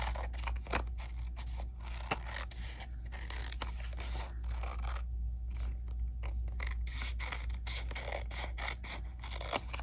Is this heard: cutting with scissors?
yes